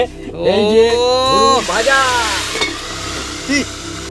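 Snack dough, a crunchy namkeen mix, drops into a pan of hot oil and crackles with a steady sizzle for a few seconds while a voice talks over it.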